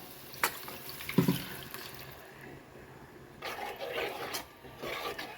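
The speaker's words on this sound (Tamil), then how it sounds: "உங்களுக்கு தேவையான அளவு தண்ணி ஊற்றிக்கோங்க." Water poured into a simmering Tamil fish curry, heard as soft splashing and trickling that swells in uneven bursts, fairly quiet and close, with no talking.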